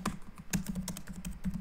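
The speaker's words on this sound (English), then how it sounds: "now the customer is typing" Rapid clicking keystrokes on a computer keyboard, a customer typing in quick uneven bursts, close and clear with no talk.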